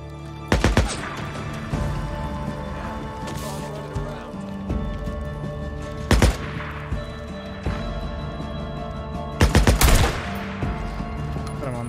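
Gunfire in the Days Gone video game, with sharp single shots and short bursts at irregular intervals, loudest in a cluster near the end, set over a steady game soundscape of music and ambience.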